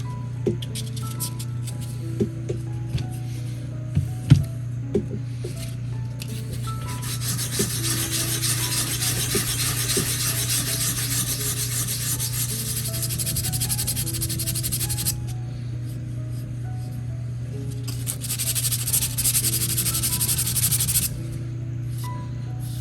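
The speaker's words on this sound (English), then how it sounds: "let's start sanding this down. I'm going to use the block, actually." Steady abrasive rasping of a sanding block rubbed back and forth over the wooden hull of a 1:400 scale model ship, continuous and close, with a low steady hum underneath.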